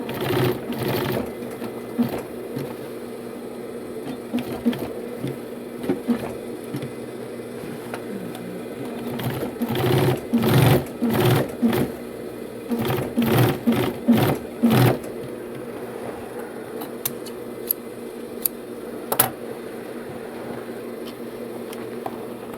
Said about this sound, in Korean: 청바지 미싱에서 박음질 하고 오겠습니다